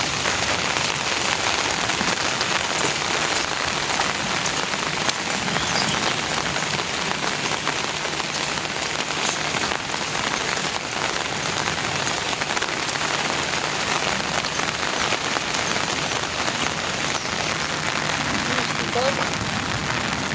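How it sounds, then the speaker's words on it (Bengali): Heavy rain pours steadily and loudly, a dense, unbroken hiss of drops hitting surfaces for the whole stretch, with no pauses in the downpour. "এই বৃষ্টিতে ভিজতে ভিজতে যাইতেছি।"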